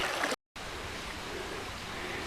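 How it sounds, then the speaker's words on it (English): Creek water on a hiking trail loop in Cheaha State Park, Alabama, rushing in a steady, continuous broadband wash, with one brief break near the start and no talking. "Look at this creek."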